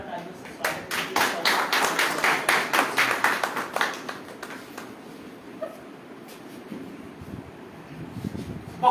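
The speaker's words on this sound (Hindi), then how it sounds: "जोरदार तालियों से स्वागत कीजिए।" Audience clapping to welcome a speaker at a Hindi-language event, a burst of rhythmic claps that fades out midway, leaving quieter room noise and a voice.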